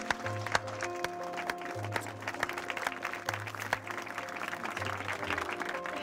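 A crowd at a French home-makeover TV celebration claps in a steady standing ovation, continuous mid-level applause with a low repeating hum or music tone pulsing underneath.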